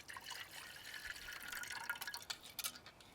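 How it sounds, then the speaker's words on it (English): Water poured into a Kelly Kettle Trekker camping kettle that is still hot, with a soft, uneven trickle and light splashing that grows slightly louder and more broken toward the end. "So what I'll do, I'll put a bit of water in"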